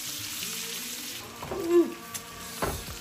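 Chopped garlic fries in melted butter for a white sauce pasta, a soft, fairly quiet sizzle with a few light clinks and scrapes from the pan, no talking.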